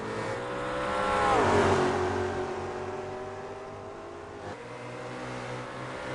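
Race cars, a McLaren GT car among them, sweep past with a rising engine whine that peaks, drops in pitch and fades to a steady droning tone, followed by another faint pass.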